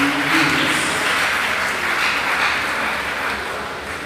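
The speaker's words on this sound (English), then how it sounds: "Let's give a round of applause as she leads." An audience at an International Day of Education celebration applauds in a dense, sustained wash of clapping that slowly tapers over a few seconds.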